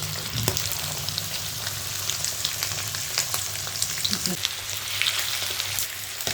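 Freshwater fish frying in a spicy masala coating in a pan, a steady loud crackling sizzle throughout with occasional sharper pops, heard alone without talk.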